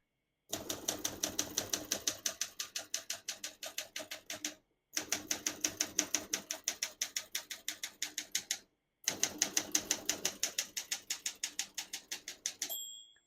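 Rapid keystrokes on a 1970 Olympia SM8 vintage portable typewriter, clacking in three steady bursts separated by short pauses, close and crisp with no talking.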